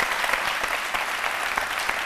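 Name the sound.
studio audience applause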